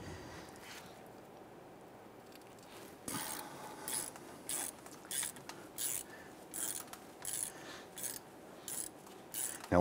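Ratchet clicking in short repeated bursts while loosening hub bolts on a 1999-2004 Jeep Grand Cherokee, close and fairly clear, with about seven rhythmic spurts of ratcheting after a quieter start.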